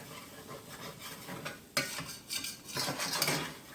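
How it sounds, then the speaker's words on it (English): A utensil scraping browned bits off the bottom of a hot pan while making Swedish meatballs, with gritty scratching strokes and soft sizzling, close up and growing louder after a sharp scrape partway through. "I'm going to scrape up all that good stuff on the bottom."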